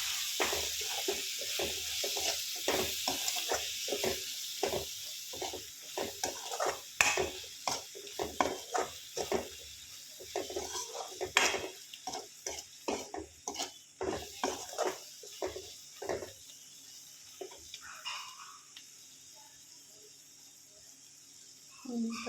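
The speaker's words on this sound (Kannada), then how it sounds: "ಕೊತ್ತಂಬರಿ ಸೊಪ್ಪು ಹಾಕ್ತಾಯಿದ್ದೀನಿ. ಅದನ್ನು ನೀಟಾಗಿ ಫ್ರೈ ಮಾಡ್ಕೋಬೇಕು." Coriander leaves sizzle in a hot pan for an egg curry while a utensil stirs them, giving repeated scraping strokes and clinks over a soft, continuous frying hiss.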